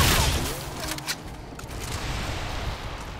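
Rapid gunfire from a Remnant 2 co-op firefight, a dense continuous rattle of shots with heavy low booms, loud throughout and mixed with other game noise.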